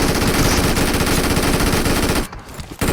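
Rapid, loud automatic gunfire in PUBG, a dense sustained burst of shots that briefly stops near the end before resuming.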